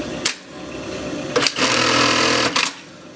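An Atlas USA AT1850-42H high-speed bartacking sewing machine stitches loudly and close by in two sustained mechanical whirring runs, each opened and closed by sharp clicks.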